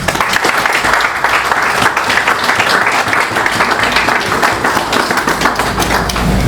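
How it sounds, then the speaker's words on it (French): Thunderous applause from a large hall audience at a Senegalese youth gathering, dense steady clapping sustained throughout at full loudness, with no talk over it. "d'applaudissements pour Amdi Barham."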